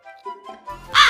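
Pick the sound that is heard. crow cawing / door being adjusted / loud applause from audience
crow cawing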